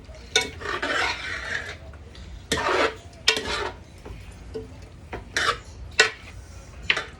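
Pork being stirred in a pot for jambalaya: a spoon scrapes and clanks against the metal in irregular strokes, with sizzling underneath and sharp knocks between the strokes, close up and without speech.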